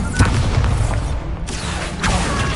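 Incendio fire spell cast in a Harry Potter video game, a loud, full whooshing boom of flame that swells, dips briefly, then flares again twice in close succession.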